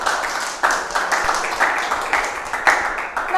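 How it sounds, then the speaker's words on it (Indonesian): A small group of children claps for Reva, choppy, uneven applause with bursts of clapping rising and falling over a few seconds, fairly close and moderately loud. "beri tepuk tangan dulu untuk Reva dong"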